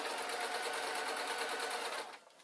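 A sewing machine stitches a seam on a Downton Abbey-style dress, a fast, even mechanical whirr heard up close before it slows and stops.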